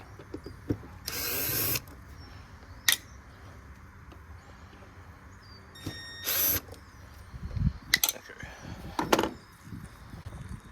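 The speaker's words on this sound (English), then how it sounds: "we'll take off the Phillips screws for the mass airflow sensor" A power screwdriver backs out Phillips screws from the mass airflow sensor on a Range Rover Sport HSE 5.0L V8, with several short, loud whirring bursts separated by quiet pauses, clicks and handling knocks.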